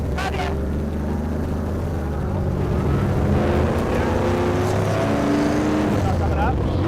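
A race car roars steadily at high revs while driving laps on a slippery track, the engine drone loud and continuous with slight pitch shifts as it accelerates.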